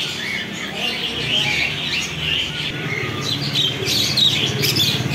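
An adult male Alexandrine (pahari) parakeet in a bird shop gives repeated loud, harsh squawks and chirps close by. The calls are mixed with other bird noise in the background.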